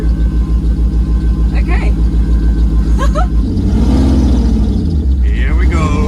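A concept car pulls away in first gear, its engine a loud close rumble with a steady pulsing throb that shifts and rises partway through, under a short spoken word and brief talk.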